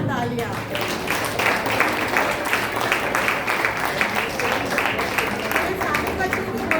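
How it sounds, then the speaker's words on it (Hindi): Children and adults at an Independence Day celebration at Arya Samaj clap loudly, sustained applause from a crowd that lasts several seconds, dense and even. "तो एक हाथ से और हमारी तरह से दोनों हाथ से जोरदार तालियां।"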